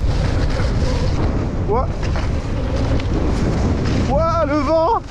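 Strong wind roars steadily into the microphone at an outdoor mountain-bike park, loud and buffeting throughout, while someone speaks briefly and whistling tones rise near the end.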